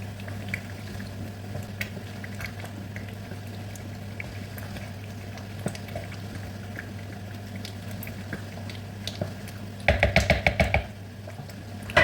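Red oil stew with crayfish bubbles steadily in a pot, a soft continuous simmer with a low hum beneath, then a brief burst of louder clattering bubbles near the end.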